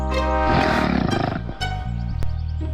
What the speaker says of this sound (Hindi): ये खर्राटों की आवाज है